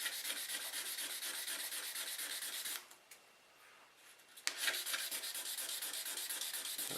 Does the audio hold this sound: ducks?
no